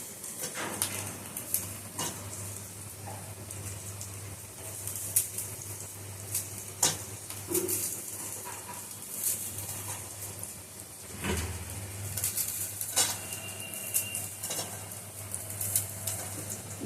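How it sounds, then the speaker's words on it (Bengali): Blocks of Maggi noodles are snapped apart and dropped into a frying pan, giving scattered cracks, clicks and utensil scrapes over a low, continuous sizzle. "প্রত্যেকটা ম্যাগিকে এইভাবে ভেঙে ভেঙে দিয়ে দেবো।"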